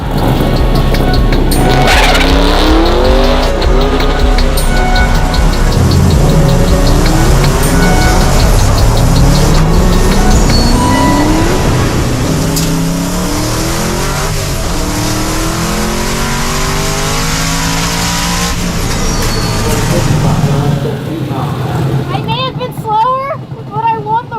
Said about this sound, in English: he's drag racing with a long travel suspension on this